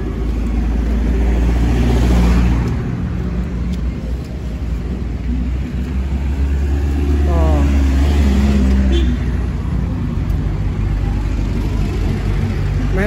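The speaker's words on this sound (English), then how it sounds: "Man, that should be the police truck right there." A police truck drives past on a street in Libreville, Gabon, its engine rising to a loud close pass and then fading, with traffic noise behind it.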